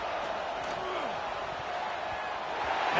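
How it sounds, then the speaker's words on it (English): Football stadium crowd roaring steadily throughout, a dense, loud wash of noise from a packed stadium backing its home defense, with faint voices mixed in. "Listen to this crowd just shaking the girders of this place,"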